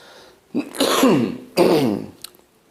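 Two harsh, throaty coughs in quick succession, close and fairly loud, followed by quiet.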